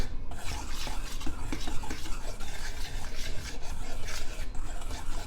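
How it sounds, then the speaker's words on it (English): Dry ingredients for soda bread, flour with a teaspoon of baking soda, being stirred together in a bowl, giving a steady close scraping and rubbing rasp that runs without pause and with no talk. "And a teaspoon of baking soda. We're going to mix them together."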